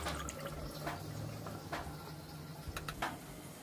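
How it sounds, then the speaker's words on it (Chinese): Pork ribs are rinsed with clean water, giving a steady wash of running and splashing water with a few sharper drips and splashes toward the end. "然後用清水用水再洗下"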